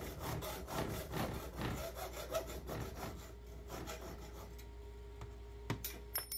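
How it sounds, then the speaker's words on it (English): Close, rhythmic strokes of a hand saw cutting, fairly quiet, with a steady back-and-forth rasp that slows and thins toward the end. "So we have the right saw for the job."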